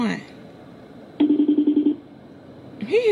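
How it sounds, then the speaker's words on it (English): A telephone rings once, a short burst of rapid trilling pulses heard close by, with brief talk just before and after it. "I know he heard the phone ring."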